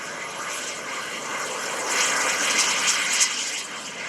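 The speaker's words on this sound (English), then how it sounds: "this jet engine on board that airplane has 50 pounds of thrust" Radio-controlled model jet airplane with a 50-pound-thrust jet engine at an airshow, a steady high-pitched turbine whine and roar from a moderate distance, swelling a little midway.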